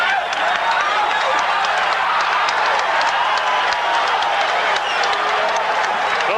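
Boxing crowd at Caesars Palace, Las Vegas, during the 1980 Muhammad Ali versus Larry Holmes fight: a dense roar of cheering and applause fills the arena, loud and continuous throughout.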